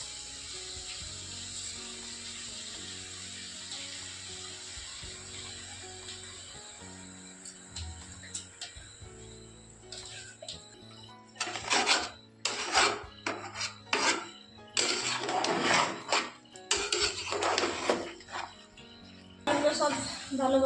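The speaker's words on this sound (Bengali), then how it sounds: "চালটা দিয়ে একটু কষে নেব চালটাকে।" Rice and vegetables stir-fried with spices in a pan, scraping and rasping spatula strokes in irregular bursts that grow busier in the second half, close up over a low steady background hum.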